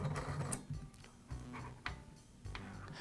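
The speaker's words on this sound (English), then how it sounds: "Then I'll thread on the clutch." A clutch is threaded onto the crankshaft of a Troy-Bilt string trimmer, giving faint, irregular metallic clicks and ticks with brief gaps in between in a quiet room.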